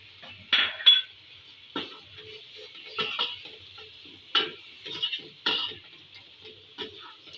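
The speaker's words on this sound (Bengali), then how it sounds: "মাংসটা ভালো করে কষিয়ে আসছে" A spoon scrapes and clinks against a pan as beef with ginger-garlic paste is stirred and sautéed for curry, with irregular close taps over a faint, steady sizzle.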